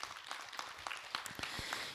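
Studio audience applause during a Buddhist lecture broadcast, soft scattered clapping from a group that stays faint and distant with a few sharper claps.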